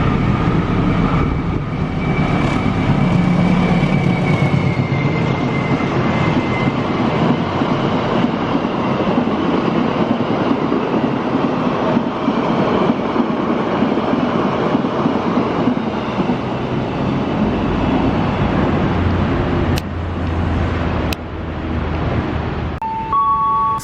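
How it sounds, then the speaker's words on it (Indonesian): Menoreh 176B passenger train running past Klender station, a loud steady rumble of rail wagons lasting throughout with faint wheel clatter, ending with a brief high horn-like tone. "sebentar lagi akan lewat kereta Menoreh 176B"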